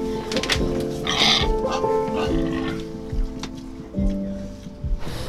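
Pigs at a slaughterhouse in Boxtel grunt and oink repeatedly, with several overlapping calls of varying loudness in a busy, echoing space.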